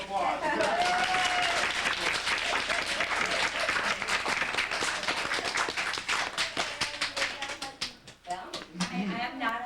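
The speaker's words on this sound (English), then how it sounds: "Let's give her a round of applause." A round of applause at a family reunion in Asilomar, California: lively clapping from a group nearby, with individual claps standing out, and voices talking under it before it tapers off.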